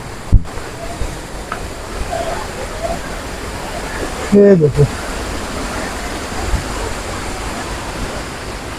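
Kempty Falls in Mussoorie, Uttarakhand, gives a continuous broad rush of falling water. Someone speaks briefly over it, and a short burst of handling or wind noise cuts in midway.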